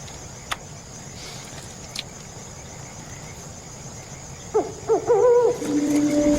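Burrowing owls give a few short hoots near the end of a nighttime film scene, rising over a faint chirping of crickets, with a couple of sharp clicks earlier.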